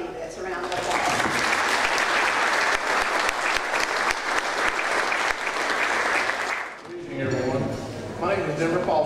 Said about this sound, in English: Let's give all five of our candidates a round of applause.